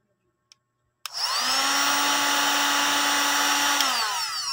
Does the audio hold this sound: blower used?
yes